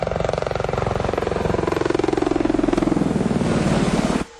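A Boeing AH-64 Apache Longbow attack helicopter thumps with a rapid, loud, steady rotor chop and a turbine whine that slowly shifts in pitch before cutting off abruptly near the end.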